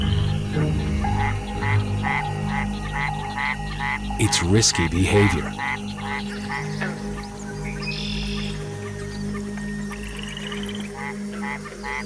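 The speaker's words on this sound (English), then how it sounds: "the Mexican white-lipped frog makes a series of chirping sounds" Repetitive rhythmic chirps from male Mexican white-lipped frogs fill a busy night chorus, with a brief rustling burst midway and a voice speaking over it.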